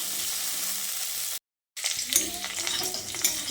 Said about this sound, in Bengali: সেই আলুগুলো তেলের মধ্যে দিয়ে দিচ্ছি। তারপর এই আলুগুলোকেও তেলের সঙ্গে খুব ভালো করে লালচে করে ভেজে নেব।